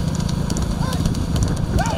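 Hooves pound rhythmically as six horses gallop in a rural horse race, a dense, continuous drumming under crowd noise and occasional high-pitched whistles or calls.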